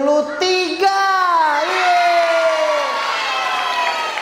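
A group of children cheering with drawn-out, sliding voices in a religious study class, loud and close, with the shout fading gradually toward the end.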